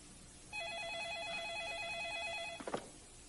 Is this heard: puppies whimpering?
no